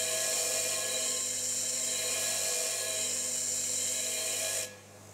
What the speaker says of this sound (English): After we finish grinding the cutter, we've got to make sure that all the edges are up.